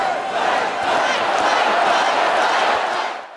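A large convention crowd chants and roars in a dense, loud wash of many voices that swells and holds before dropping off at the end.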